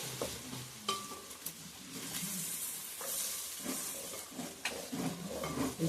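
Prawn pickle ingredients fry in groundnut oil with a steady sizzle and hiss, broken by scraping stirs and a few sharp clinks of a utensil against the pan.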